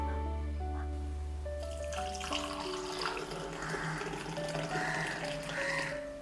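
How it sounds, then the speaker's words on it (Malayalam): Tea poured from a pot into a glass, a steady liquid stream running close and clear for several seconds over faint background music. "ഇനി നമുക്കതൊന്ന് ഗ്ലാസ്സിലേക്ക് ഒഴിക്കാം."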